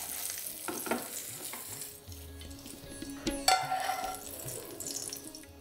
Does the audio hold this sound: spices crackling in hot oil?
yes